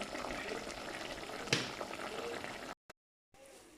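Sauce for a Comorian guinea-fowl dish simmers in a pot, a steady low bubbling hiss with one brief knock, then a short gap of silence before the quieter simmer resumes.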